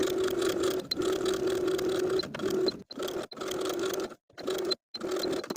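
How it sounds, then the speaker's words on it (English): A sewing machine runs close and steady while edge stitching a fabric casing, its fast whirring hum broken by several brief stops and restarts. "I'm going to create the casing by stitching from one side to the other"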